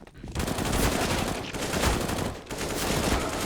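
Sustained RPK machine gun fire rattles densely and loudly for several seconds in a professional Counter-Strike match on the Overpass map, with only brief dips between bursts.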